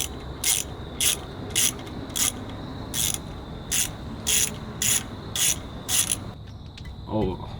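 A ratchet works a T40 bolt loose on a BMW 335i brake rotor, producing about ten evenly spaced, sharp clicking bursts up close, then a brief metallic rattle at the end.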